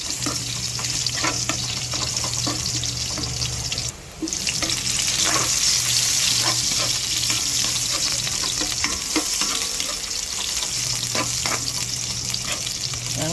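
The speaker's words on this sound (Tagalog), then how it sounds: "Ayan, gigisa na tayo." Food sautés in a hot pan with a steady, close crackling sizzle and occasional stirring clatter over a low background hum, dipping briefly before resuming.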